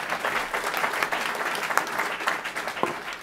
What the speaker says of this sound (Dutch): Laatste applaus